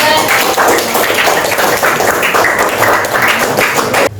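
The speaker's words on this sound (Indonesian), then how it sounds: "Tepuk tangan dong buat Mas Ida." A class of students claps in a classroom, a continuous, fairly loud patter of hands that carries on for several seconds before cutting off abruptly.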